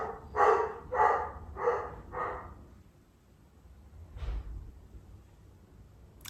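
Dogs barking in a quick run of four loud, close barks on a windy day, then a quiet stretch broken by one fainter, sharper bark and a final brief yip.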